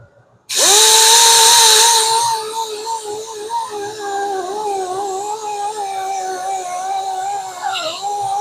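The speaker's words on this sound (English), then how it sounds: "with the grinder using the red conditioning disc" A power grinder fitted with a red conditioning disc works a Jaguar wheel rim, starting abruptly with a loud, steady high whine that continues near and alone.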